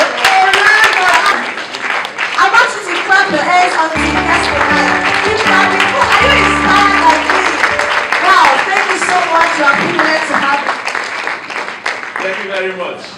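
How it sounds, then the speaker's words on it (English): Audience clapping at an evening stage event as a guest is welcomed, loud sustained applause with rhythmic hand claps, low music-like tones underneath and voices over the clapping. "I want you to clap your hands on the guest tonight. Keep clapping."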